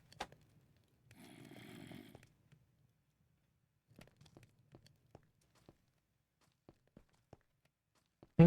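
Footsteps in a Minecraft video game, a scattered series of soft, separate steps and thuds. They follow a short burst of rustling noise, then sound faint and irregular against near silence, with a sharper hit at the end.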